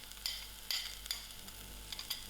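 Ginger and garlic fry in a pan for a shepherd's pie filling, giving a soft steady sizzle with a few sharp taps of a spoon against the pan.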